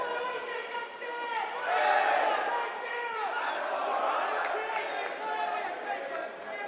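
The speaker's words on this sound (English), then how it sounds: "finally the crowd has something to cheer for" A large esports crowd at a Dota 2 Major quarterfinal roars and cheers steadily, swelling loudly near the start and holding a dense, continuous din of voices throughout.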